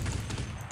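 Rapid automatic gunfire from Counter-Strike 1.6, a dense burst of shots filling the short moment, loud and close with no talk over it.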